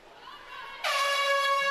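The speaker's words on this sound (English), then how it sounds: "The ref just took the air horn" Referee's air horn at a girls' swim meet blasts suddenly partway through, loud and sustained with a harsh buzzing tone, following a noisy pool-deck crowd murmur.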